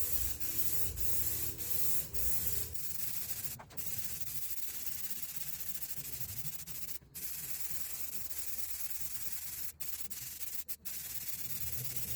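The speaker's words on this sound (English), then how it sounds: "we'll go get the DA and some sandpaper and come back and get this all stripped and get it primed" A dual-action (DA) sander with sandpaper strips rust from the body of a long-neglected project truck, grinding in a steady, loud, continuous rasp for the whole stretch with only a few brief breaks.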